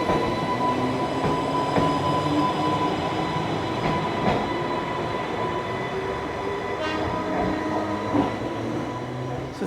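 Isle of Wight Island Line trains pull away from a station, with a steady rumble of wheels on rails, some clicking and faint squeals, and a few sharp knocks.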